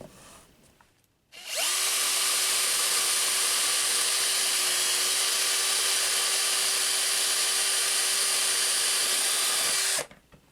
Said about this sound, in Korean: 전동 드릴이 있으시면 전동 드릴로 뚫어주면 되는데